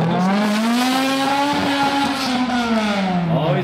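Motorsport club race cars rev hard during a flower and harvest festival parade in Skierniewice, a loud sustained engine roar rising and falling in pitch, close by and continuous.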